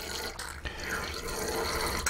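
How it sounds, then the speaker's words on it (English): A bulb syringe flushes water through a fountain pen nib and section, giving a steady splashing, gurgling flow of inky water with small drips, close and continuous, with no talk. "let the bulb absorb all of that water, and then we flush it out"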